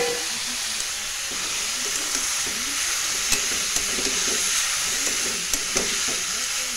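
Papaya pieces fry in a pan with a steady broadband sizzle, punctuated by a few soft clicks of stirring; close and alone without talk.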